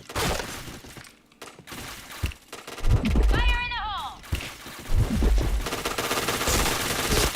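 Gunfire in a shooting video game: rapid bursts and single shots crackle over a busy background, with a rising electronic chime sweeping through mid-clip, while a voice talks over the action.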